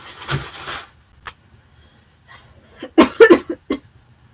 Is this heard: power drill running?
no